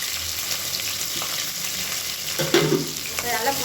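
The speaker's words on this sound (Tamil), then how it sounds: "இப்போ நல்லா பொரியுது." Mint leaves, green chilies and sliced onion frying in oil for biryani give a close, steady sizzle, with a brief scrape of stirring partway through.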